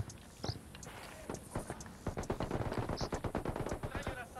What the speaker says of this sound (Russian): А, у них здесь стрельбище.